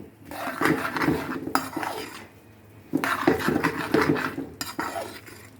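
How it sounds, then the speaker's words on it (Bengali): Onion paste being sautéed in a pot for a chicken brown stew, with repeated scraping and clinking of a utensil against the pot in two bursts separated by a quieter pause. "এবারে ভালো করে আমরা এটাকে কিন্তু কষিয়ে নেব, পেঁয়াজ পেস্টটাকে একটু কুক করে নেব।"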